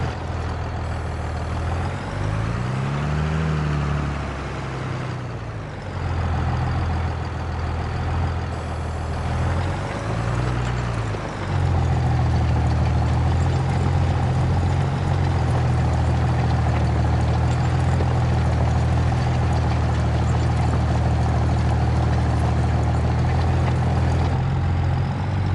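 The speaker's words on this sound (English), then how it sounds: "Tractor is struggling a little bit with how steep this field is." A tractor engine straining up a steep field in Farming Simulator 22 on a Somerset farm, a steady low drone that rises and dips in pitch, then settles into a heavier, louder labored hum.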